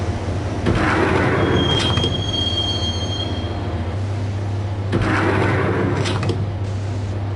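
Steady rumble of a train ride in the video game Max Payne, with squealing wheels, rattling cars and a droning low hum, loud and continuous with no talk.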